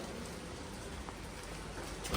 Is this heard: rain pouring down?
yes